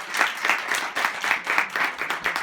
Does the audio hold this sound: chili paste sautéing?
no